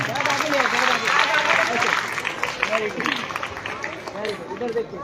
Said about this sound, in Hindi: अपने लिए एक बार जोरदार तालियां।